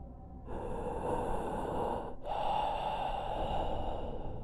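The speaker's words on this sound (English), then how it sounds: "I can hear him breathing heavy" Heavy, ragged breathing from a man in an animated horror story, close and loud, with long drawn-out breaths and a short pause between them.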